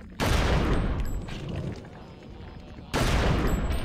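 Pistol gunfire in the GameCube game Eternal Darkness: Sanity's Requiem, heard as loud, dense bursts of shots that start abruptly, ease off into a rumbling tail, then hit hard again near the end, with no talking.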